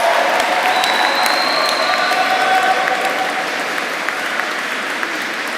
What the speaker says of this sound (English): Please can you clap, cheer, whoop and say a big thank you to everybody here in the cathedral.